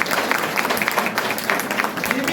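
An audience at a Kargil Vijay Diwas eve gathering claps in a dense, steady wash of applause throughout, with scattered crowd murmur mixed in.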